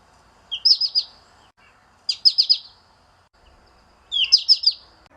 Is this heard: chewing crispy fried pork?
no